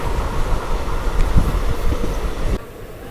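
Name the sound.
Gol Gumbaz Express train passing on railway line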